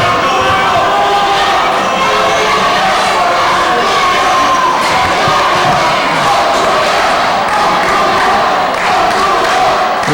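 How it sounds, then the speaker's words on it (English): A loud crowd at a live pro wrestling event cheers and shouts continuously, a roaring, steady wall of voices with occasional thuds throughout. "Listen to the crowd, Mike."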